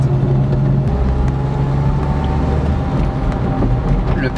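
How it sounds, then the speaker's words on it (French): A Renault Super 5 engine drones steadily from inside the car at a loud, even level, with a low rumble throughout as gears are changed while driving. "Le passage de vitesse."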